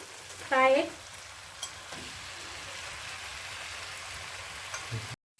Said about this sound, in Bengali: এবার পরিমাণ মতো লবণ আর এই টমেটো কেচাপটা দিয়ে ভালো করে আবার একটু মিক্স করতে হবে